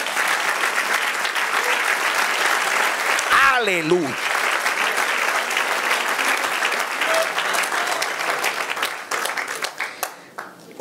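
A church congregation applauds the Lord during a sermon on the offering: dense, steady clapping from many hands fills the room, loud and continuous, with a voice crying out briefly partway through before the clapping thins near the end.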